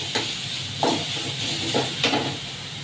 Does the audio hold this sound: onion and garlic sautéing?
yes